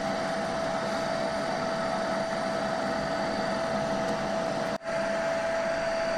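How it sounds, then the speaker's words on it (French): A vacuum cleaner sucks dust out of a PlayStation 5 console being cleaned after a year without maintenance, giving a loud, steady whine and whoosh that runs continuously with one brief dip near the end. "désolé pour le bruit de l'aspirateur"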